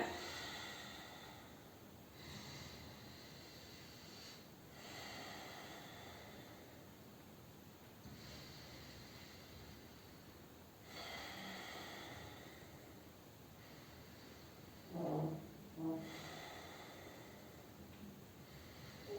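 Slow, deep breaths during a chest-opening stretching exercise, long soft inhales and exhales recurring every few seconds, faint and close, with a couple of louder breaths near the end.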